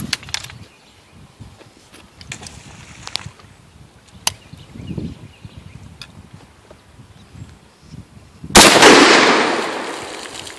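An SKS rifle fired outdoors at a river, a loud sharp crack near the end with a long decaying echo, preceded by soft clicks and handling noise.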